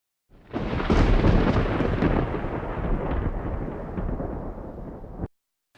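Monsoon thunderstorm in Tucson, a loud, close rolling thunder crash that bursts in, rumbles heavily for about five seconds and then cuts off.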